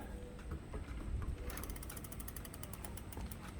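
A ratchet clicks in quick, rapid succession while the brake on a Lectric XP e-bike is tightened down, the ticking close and fairly quiet over a low mechanical background.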